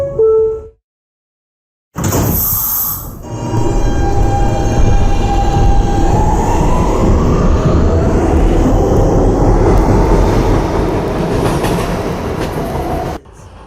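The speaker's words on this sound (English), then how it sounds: "This is a Petersburg-bound B train." A subway B train running in a simulated city metro, a loud close roar of wheels and motor with a rising whine and clatter, steady for about eleven seconds after a brief silence and a hiss, no talk.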